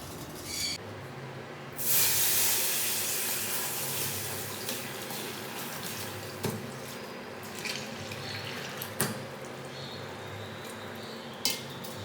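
Wheat milk hits caramelized sugar in a pan while Tirunelveli halwa cooks, setting off a sudden loud hiss that settles into a steady sizzle, with a few metallic clinks of a spoon against the vessel and no talking.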